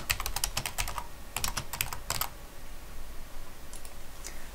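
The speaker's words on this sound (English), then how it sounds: "You can also type in any text" Computer keyboard typing text into an Excel flow chart shape, with quick clusters of crisp key clicks up close, then a stretch of near quiet with a few faint taps at the end.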